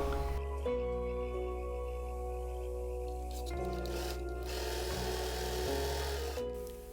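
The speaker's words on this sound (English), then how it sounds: "I sew the strap all around the strap stitch" Faux leather tote bag strap fed through a sewing machine, giving a continuous droning motor hum with faint scuffing and a few small shifts in tone as the stitching proceeds.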